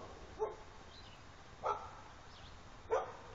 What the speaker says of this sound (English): Don't bark in my videos.